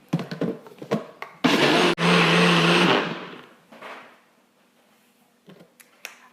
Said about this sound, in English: Going to pour this into my blender.